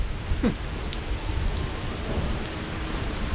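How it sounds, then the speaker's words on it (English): Heavy rain pouring outside an old haunted mansion, a dense, continuous hiss heard from nearby with no break, steady and moderately loud. "look at this, the rain just picked up too"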